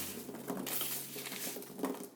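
Seasoned potatoes drizzled with olive oil and thyme are tossed in a bowl, giving soft irregular patters and light scraping clatters from a few quick shakes, close and fairly quiet.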